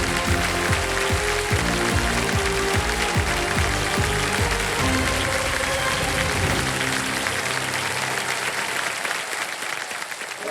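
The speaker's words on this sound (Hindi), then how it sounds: "तालियां बज जाए इनके लिए।" A studio audience on a televised quiz show bursts into sustained, dense applause that fills the room, mixed with music and a host's voice, then thins out toward the end.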